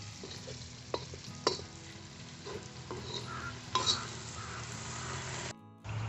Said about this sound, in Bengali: ওলকপিগুলো একটু সময় নিয়ে ভাজতে হবে